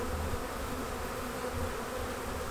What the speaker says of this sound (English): When you grab a bunch of bees like this, because they're all moving around